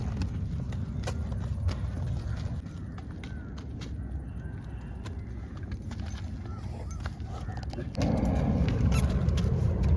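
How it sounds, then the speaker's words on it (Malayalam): A horse in training moves off on a voice command, its hooves clip-clopping in a steady rhythm against a constant low rumble, with faint voices in the background. "ഈ ഒരു കമൻറ്റിൽ കുതിര മൂവ് ചെയ്ത് തുടങ്ങും"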